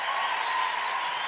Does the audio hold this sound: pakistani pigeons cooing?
no